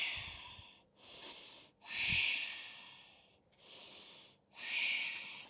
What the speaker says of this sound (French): J'expire.